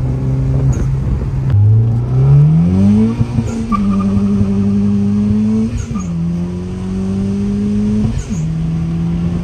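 A front-wheel-drive Honda Civic Type R engine revs hard and climbs through several gear shifts, pitch rising then dropping at each change, loud and close with no talk.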